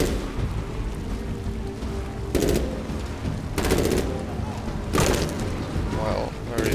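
Sniper gunfire in Medal of Honor: Warfighter, with several sharp, loud shots spaced a second or so apart over a rumbling battle background, while someone talks between the shots.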